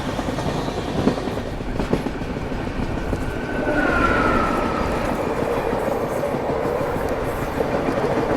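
The 12591 Rapti Sagar Express passenger train rolls slowly near Yadgir, with a steady low rumble from inside the coach and rhythmic wheel clatter over rail joints. A faint squeal rises midway.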